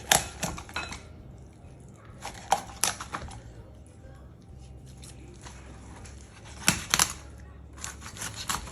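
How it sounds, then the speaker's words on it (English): A knife cuts along the sides of a raw chicken, making soft, close squishy slicing and tapping sounds in irregular bursts with quiet gaps, no voices. "I like to kind of like cut the sides. I'll just use my knife. So just cut it."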